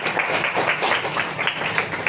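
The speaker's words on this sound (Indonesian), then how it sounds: "Beri tepuk tangan dong." Classmates applaud in a classroom after a group shows off a decorated craft project, a dense, steady patter of many hands clapping at close range for about two seconds, with no talking over it.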